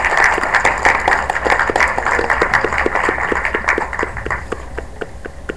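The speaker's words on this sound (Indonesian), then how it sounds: "Kita beri aplaus yang meriah." Audience applause at a speech event, a steady run of crisp, evenly paced claps close by that gradually thins and softens toward the end.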